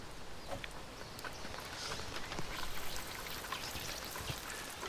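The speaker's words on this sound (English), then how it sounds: "an Englishman in his garden watering his plants as the rain hammers down" Steady dense patter of heavy rain falling continuously in a garden, with a wet, splashing hiss and scattered drips, no voices.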